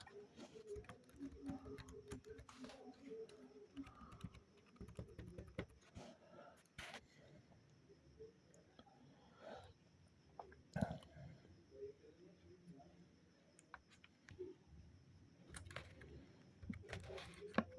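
Typing on a computer keyboard while writing an HTML ordered list, a quiet run of irregular key clicks with brief pauses and a few sharper taps, close and faint, with no talking.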